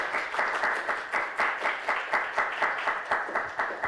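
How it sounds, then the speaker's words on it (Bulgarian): An audience applauds a guest lecturer at an event on 3D printing and future manufacturing, giving steady, moderately loud, rhythmic clapping in near-unison beats with no voices over it. "Ръкопляскайте още веднъж, докато се поклоня."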